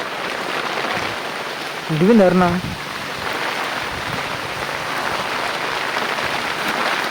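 Heavy night rain falls in a constant hiss while a woman calls out briefly over the downpour.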